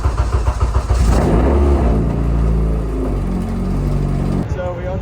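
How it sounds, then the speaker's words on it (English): A car parked at Watkins Glen cranks with a rapid rhythmic starter chatter, catches and roars up loudly close by, then settles into a steady humming idle before cutting off abruptly. "we're gonna see if this car starts up"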